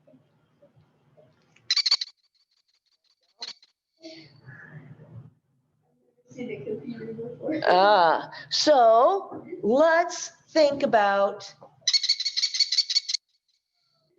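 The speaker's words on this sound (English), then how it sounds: "He is an American kestrel, and he is the smallest in the falcon family." An American kestrel, the smallest falcon, gives a rapid series of shrill, repeated klee calls near the end, after a person talks nearby at a raptor display in Nebraska.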